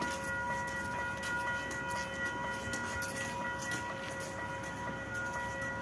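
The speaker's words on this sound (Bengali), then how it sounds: "একটা ট্রেন আসছে" A train arriving at a station in Edmonton, Canada on a sunny day, a continuous distant rail rumble with steady ringing tones running through it and no voices.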